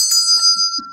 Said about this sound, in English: So it's just got a really pretty ring to it.